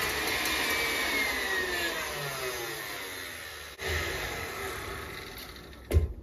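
An electric mixer whips pumpkin whipped topping toward stiff peaks, giving a steady, fairly loud motor whir with a brief dip midway and a few clunks near the end.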